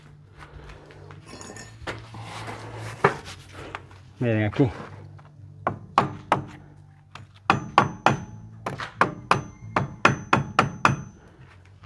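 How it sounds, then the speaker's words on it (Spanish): A hammer taps steel nails on a window in a series of sharp clinks, sparse at first then a quick steady run of blows, with a voice speaking briefly. "con la ayuda del martillo, le vamos a dar un golpecito"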